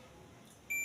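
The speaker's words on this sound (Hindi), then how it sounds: "अपने बीप की आवाज है, तो जिस पर अपने बीप की आवाज आती है ना" A multimeter set to continuity gives a short, clear electronic beep while probing the six wires of a high-medium-low motor with a capacitor; it comes in suddenly near the end after a quiet stretch.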